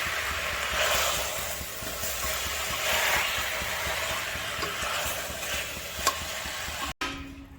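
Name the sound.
sautéing ingredients in a pan for country chicken curry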